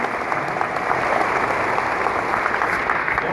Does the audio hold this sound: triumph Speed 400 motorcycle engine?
no